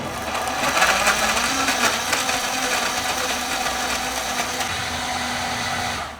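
A kitchen blender runs steadily, whirring at a constant pitch with a slight rise in the motor tone as it blends an aloe vera smoothie, loud and close with no talk.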